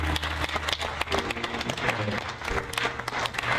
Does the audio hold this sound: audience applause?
yes